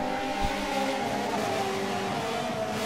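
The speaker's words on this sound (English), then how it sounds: "The sound of all those Honda engines on the same track sounds like" Several Honda race car engines on a racing circuit form a continuous, buzzing drone, like a swarm of bees, with steady revving that rises and falls and no talk over it.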